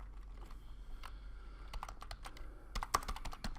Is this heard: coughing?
no